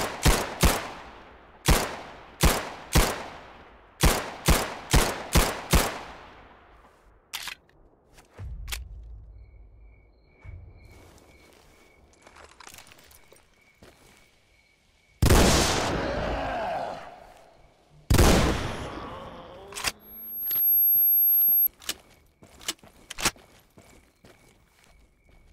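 Gunfire in the video game Stalker: a rapid string of sharp, loud shots with decaying echoes, then a pause and two more heavy bursts of fire amid faint ambient noise.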